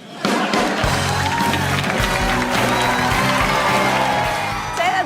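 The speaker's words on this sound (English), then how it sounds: "More applause than I expected" A live podcast audience bursts into loud, sustained applause mixed with cheering and whoops, a thick continuous crowd roar that holds steady before easing slightly near the end.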